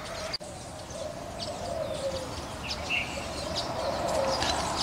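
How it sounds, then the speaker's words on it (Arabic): Doves cooing from a neem tree, soft low rolling coos repeating under a steady outdoor hiss with faint chirps of other birds, moderately distant. "هديل الحمام على هذه الشجرة"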